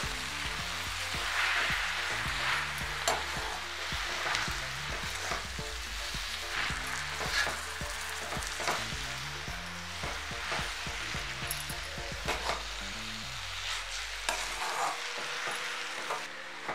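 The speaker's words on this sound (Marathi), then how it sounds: "आता हे सगळं भाजी असं चांगलं व्यवस्थित हलवून घ्यायचं, मसाला लागला पाहिजे ह्याच्यात।" Hadga flower vegetable cooking with masala on a low flame, a continuous crackling sizzle under frequent rhythmic scrapes and taps of a spoon stirring in the pan, quieting near the end, with no talking.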